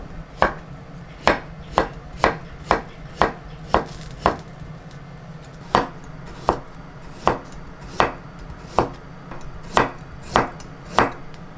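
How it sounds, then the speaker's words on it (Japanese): Cucumber thinly sliced with a knife on a cutting board, about twenty crisp, evenly spaced chops in a steady rhythm, close and clear with no voices. "きゅうりも切っていきます"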